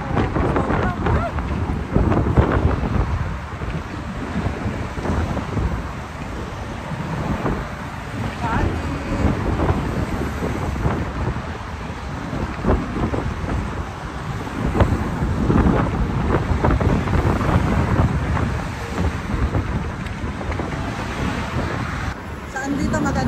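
Strong wind at the Golden Gate in San Francisco, loud and steady with blustery gusts roaring into the microphone for the whole stretch; someone speaks faintly underneath.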